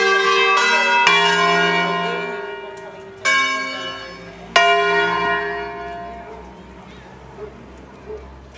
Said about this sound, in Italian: sto registrando le campane